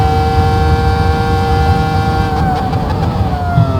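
Ferrari V10 engine screaming at high revs in a virtual reality racing game lap, a loud steady high-pitched whine with layered harmonics that dips slightly as the car brakes near the end.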